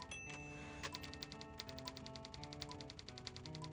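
Rapid typewriter keystrokes clatter in a steady, fast rhythm with occasional bell-like tones, typed inside the adventure game Thimbleweed Park over a faint game music bed.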